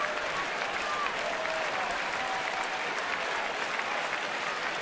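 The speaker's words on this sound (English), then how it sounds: "Crowd clapping for an out." Baseball stadium crowd clapping after an out during a Rays at Nationals game, a steady broadband wash of applause from a large distant crowd, continuous for the whole stretch with no voices standing out.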